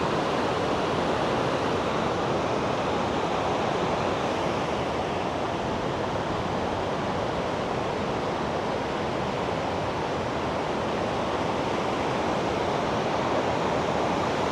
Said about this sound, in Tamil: அந்த தண்ணி விழுகிற சத்தம் வந்து பார்த்தீங்கன்னா கேட்கவே அவ்வளோ அருமையாக இருக்குது